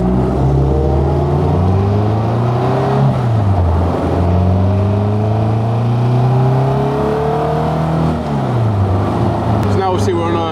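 Caterham CSR Twenty engine heard from inside while cruising in fourth gear on a dual carriageway: a loud, steady drone whose pitch climbs gradually, dips sharply twice, then climbs again.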